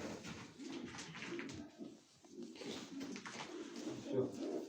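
Pigeons perched on loft beams give a run of soft, low rolling coos, fairly faint and close together, with a brief lull midway.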